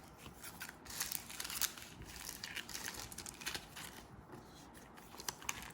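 A small resealable plastic bag of diamond-painting stickers crinkles and rustles as it is handled up close, in irregular bursts of crackling with short pauses between them and no talking.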